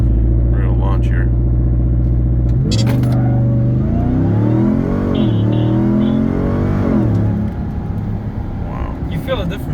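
A Ram TRX pickup fitted with a K&N intake launches hard, its engine roaring loud and close, the pitch climbing and dipping through gear changes while the rumble stays heavy throughout.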